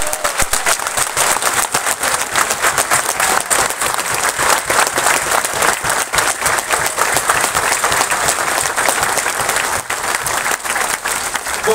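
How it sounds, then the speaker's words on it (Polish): Sustained applause from a large outdoor crowd at a monument unveiling commemorating the Volhynia massacre in Domostawa, Poland, dense and steady clapping filling the whole stretch without letting up. "Jest brawo! Brawo!"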